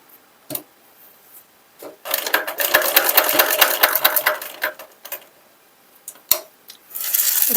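A sewing machine stitches fabric in a sustained whirring run of rapid needle strokes, close and fairly loud, framed by brief clicks and handling knocks before and after.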